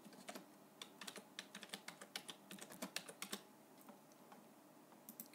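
Someone types an ID number on a computer keyboard, producing a steady run of close, crisp key clicks in irregular bursts with short pauses and no voices.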